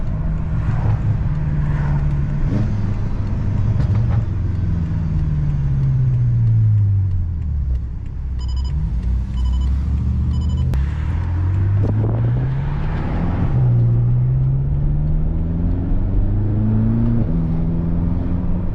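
A 750hp BMW F10 M5 pulls along the road from inside the cabin, its engine note rising and falling through repeated revs and gear changes, loud and continuous without talk.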